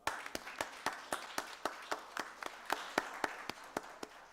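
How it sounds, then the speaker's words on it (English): Steady, evenly spaced claps ring out one after another, a single pair of hands clapping at a slow, regular pace in a quiet room at a county board of commissioners meeting. "Round of applause."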